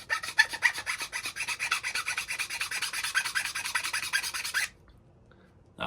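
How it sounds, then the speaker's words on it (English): A hand file rasps steadily against a small part for an RC servo linkage, with fast, even back-and-forth strokes at moderate volume for about four and a half seconds before stopping. "A little bit more filing."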